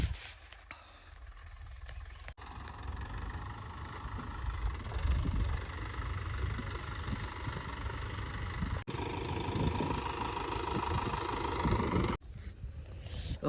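Tractor engine idling nearby while sacks are loaded, a steady mid-low rumble with slight knocking vibration, briefly interrupted by abrupt cuts.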